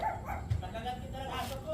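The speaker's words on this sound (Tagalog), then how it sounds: "May aso ay." A dog barking outside a house, a few short barks heard indistinctly beneath ongoing talk and background noise.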